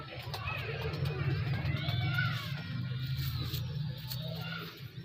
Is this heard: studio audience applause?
no